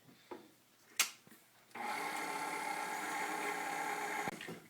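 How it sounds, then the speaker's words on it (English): Cupcake batter for chocolate chip cookie dough cupcakes being mixed in a bowl, a few knocks and scrapes followed by a continuous whirring run of an electric mixer that stops near the end. "either with your mixer or your hand mixer or a spoon, you're going to go and mix that until it's all the way combined"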